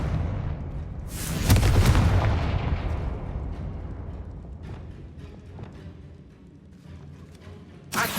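A Confringo explosion spell in the video game Hogwarts Legacy, a sudden loud blast that booms and then rolls away in a long fading rumble, with a fresh sharp hit right at the end.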